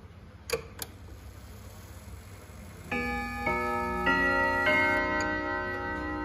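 A French Girod clock chimes its quarter-hour folk melody, a run of clear ringing bell tones entering one after another and sustaining, preceded by a couple of sharp mechanical clicks; close and distinct.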